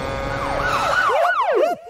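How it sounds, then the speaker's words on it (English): Police siren wails in a movie police scene, rising and falling glides that grow louder and more prominent toward the end, with dense background sound underneath and no speech. "That's the sound of the police!"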